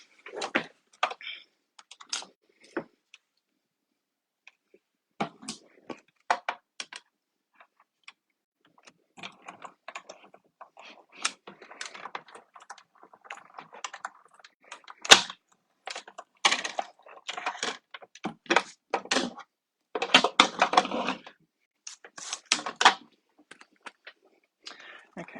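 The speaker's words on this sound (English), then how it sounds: "I'm just going to run that through my die cut machine and cut that oval there." A manual die cut machine cuts an oval die for a shaker card. It gives faint, intermittent clicks, ratcheting and rustling in scattered bursts, with quiet pauses between them.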